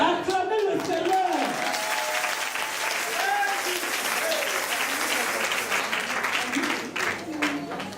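Congregation at a church worship service applauding loudly and steadily, a dense, continuous wash of clapping from many hands that holds for the whole stretch, with voices rising within it.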